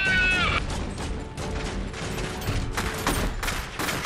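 A volley of gunfire in the Iron Harvest strategy game: rapid repeated shots crackle over battlefield noise, with a brief whining tone at the start.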